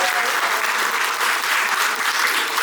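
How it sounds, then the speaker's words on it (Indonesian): An employee gathering audience applauds a speaker, loud and continuous clapping from a crowd that fills the whole stretch evenly. "Tepuk tangan dulu untuk Mas Reza"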